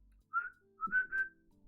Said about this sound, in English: And then you have like the actual whistle